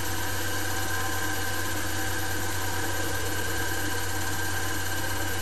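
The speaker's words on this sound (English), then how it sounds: "The speed of the motor is now 2000 RPM." An electric motor running at 2000 RPM gives a constant, steady mechanical hum and whir with a low drone underneath, unchanging throughout and with no talking.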